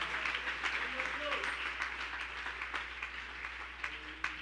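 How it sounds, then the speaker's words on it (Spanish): A church congregation applauds during a morning service, a steady wash of many hands clapping heard faintly from a distance, with a low hum underneath and voices mixed in. "¿Cuánto le quieren dar un aplauso al Rey en esta mañana?"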